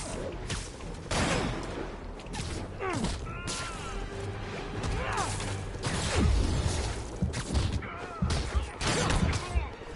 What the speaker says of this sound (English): Why are people shooting at me everywhere I go?